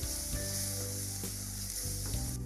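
Masala spices sizzle steadily in hot oil in a home kitchen pan, a dense continuous frying hiss with a few stirring clinks, close and fairly loud throughout.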